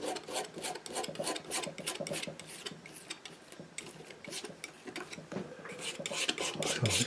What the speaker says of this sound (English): I've got a sanding block